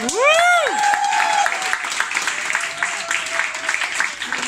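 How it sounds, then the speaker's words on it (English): An audience at a stand-up comedy night at Kasheme in Zürich applauds after the comedian's set ends. It opens with a few rising whoops and cheers, then settles into a sustained wash of clapping that gradually thins out. "Let's give him a round of applause"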